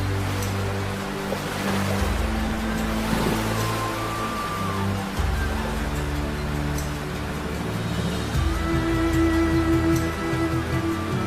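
The fast, powerful current of the Alas river rushes in a steady, loud broadband roar of churning water, close and continuous, with a deeper low rumble that swells and shifts throughout and no voices.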